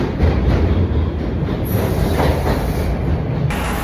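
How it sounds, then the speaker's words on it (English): A subway train rumbles loudly and steadily in a cold underground setting, with dense low roar, rail noise and brief high squealing bands, heard close with no talking. "Subway."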